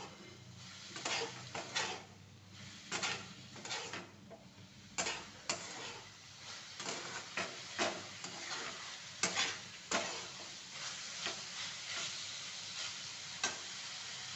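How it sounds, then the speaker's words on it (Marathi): Tomato chutney with turmeric and red chili is stirred in a pan, with rhythmic spoon scrapes and taps repeating every second or so over a faint sizzle, fairly quiet and without talk. "हळद लाल तिखट हे चांगलं ना मिक्स करून घेते"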